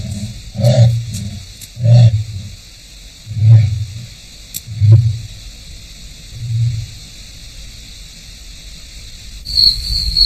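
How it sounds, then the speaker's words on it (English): Arabian leopard mating call in the wild: a series of deep, rasping low grunts repeated about five times at irregular intervals, with insects chirping steadily in the background. "the first ever sound recordings of the leopard's mating call"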